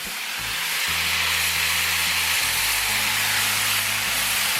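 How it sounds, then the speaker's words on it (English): Beef broth poured into a hot roasting pan for a braise, giving a broad, continuous hiss and sizzle that swells and holds steady, with low tonal hum underneath. "That's deglazing the pan as well."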